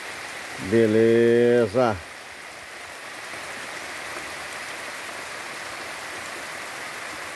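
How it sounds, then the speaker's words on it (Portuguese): Heavy rain pours steadily in a rural village in Sergipe, Brazil, a dense even hiss throughout, with a brief loud vehicle horn or voice-like tone near the start. "Vou dando essa pequena demonstração dessa grandeza de chuva hoje aqui."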